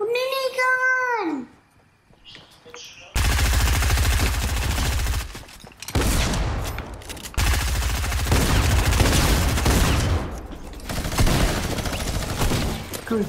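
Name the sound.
minigun firing in Fortnite video game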